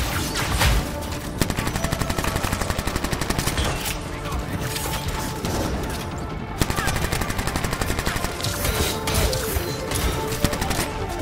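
Video game gunfire in Anthem aimed at enemy turrets: loud, continuous rapid bursts of automatic shots with sharp cracks and booming impacts, barely pausing as the firing carries on.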